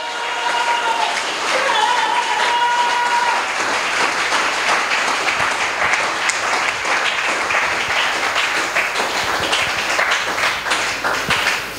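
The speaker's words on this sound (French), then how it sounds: "Est-ce qu'on peut acclamer pour le Seigneur Jésus?" A church congregation applauds for the Lord Jesus, dense sustained clapping filling the space at steady loudness throughout, with faint voices and a brief tonal sound early on beneath it.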